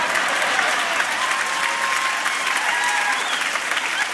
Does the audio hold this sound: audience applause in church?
yes